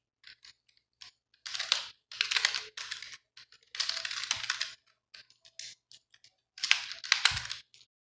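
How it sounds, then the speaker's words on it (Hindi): Computer keyboard arrow keys pressed while moving down a table in Microsoft Word, a close series of crisp clicks coming singly and in quick clustered bursts with short pauses between. "नीचे वाले तीर की मदद से कीबोर्ड से मैं नीचे आ रहा हूँ।"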